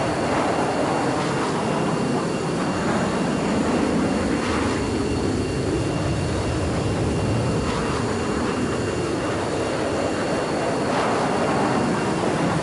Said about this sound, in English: that'll do for trying to fly an F-35